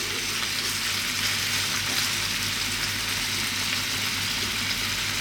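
Lamb loins frying in a pan, a steady broadband sizzle with constant hiss, close and even throughout with no talking.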